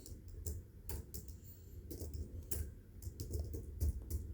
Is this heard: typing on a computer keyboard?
yes